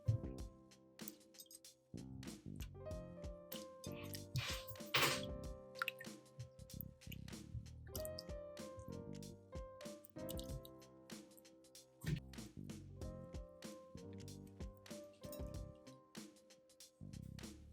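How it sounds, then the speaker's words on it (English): Potatoes being washed by hand in a basin of water, with repeated close drips, splashes and soft squishing sloshes in an irregular rhythm, fairly quiet and without speech. "put the potatoes in a basin of water and wash the potato skins"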